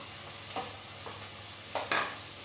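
Onions frying in a pan for a yakhni pulav, a soft steady sizzle broken by a few brief stirring scrapes and rustles, fairly close.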